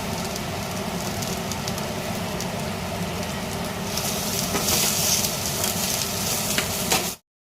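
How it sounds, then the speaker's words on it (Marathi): Chopped onion fries with fried potato in a pan for a Spanish omelette, a steady close crackling sizzle that swells brighter and louder near the end before cutting off. "तर बटाटा फ्राय करून झालेला आहे तर त्यामध्ये आपण टाकूया कांदा"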